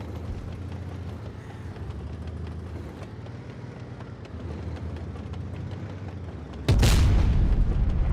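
A high-explosive tank shell fired in the tank game Blitz booms once, loud and close, after a steady low engine rumble and background battle noise.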